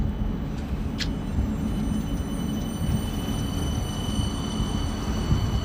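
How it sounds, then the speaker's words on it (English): Tram-train rumbling at a station in Newcastle, Australia, a steady low broadband roar with a brief high squeal near the start, continuous and fairly close, no talking. "This is the train tram going to Newcastle Beach."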